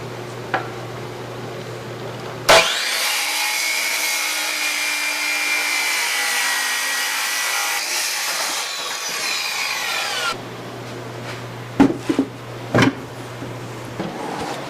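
A power saw rips through a big black walnut live edge slab: a sharp start, then a sustained loud cutting whine for about eight seconds, followed by quieter shop knocks and clunks.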